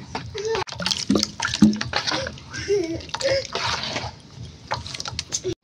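Water splashes and sloshes as it is stirred into thick pitha batter to thin it for making Bengali Poush Sankranti pithe, with voices, including a child's, talking throughout.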